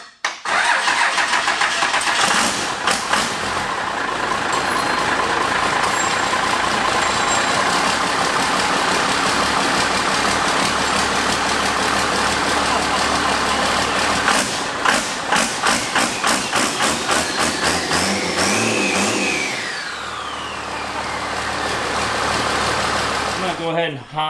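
Cummins diesel engine swapped into a Camaro cranks, catches and settles into a loud steady running clatter, with throttle blips and a brief dip near the end, close up, while people talk over it.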